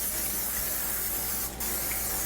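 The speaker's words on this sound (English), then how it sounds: "we're going to just take and just spray it lightly" A steady, close hiss of an aerosol cooking-oil spray onto a cast iron skillet runs for about two seconds with one brief pause near the end.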